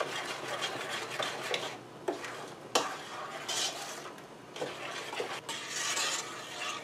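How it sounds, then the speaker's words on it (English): A spoon stirs sugar into a pot of pepper jelly to dissolve it, giving continuous close scraping and swishing with occasional sharp clinks against the pot, alone and fairly loud throughout. "I'm stirring this to get the sugar dissolved"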